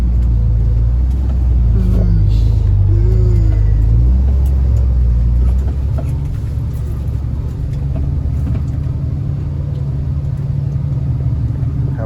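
A six-wheel truck's engine rumbles loud and low as it labors through sticky mud, a heavy steady drone with occasional speech faintly over it in the first half.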